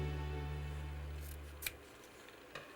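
Scissors trim paper for a holiday card waterfall craft, giving two or three short, quiet snips with a steady low hum running underneath.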